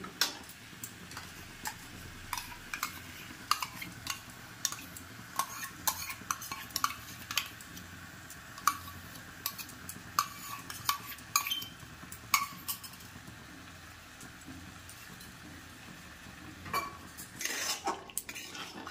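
A utensil scrapes and clinks against a kadai pan, mixing browned chicken with whisked sour yogurt over a medium gas flame, giving irregular sharp taps and metallic clicks, close and fairly quiet, with no voices.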